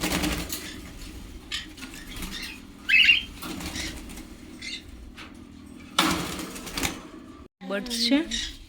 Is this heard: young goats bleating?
no